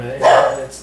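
A single dog bark rings out briefly over a person talking, fairly close and moderately loud.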